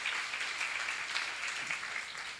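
A church congregation at a Korean seminar gives sustained, steady applause, a dense wash of clapping that holds at an even level throughout without a break.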